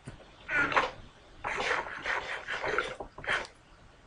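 A dog in the Minecraft video game gives several short whimpering yips and pants in separate bursts, fairly quiet, with no speech.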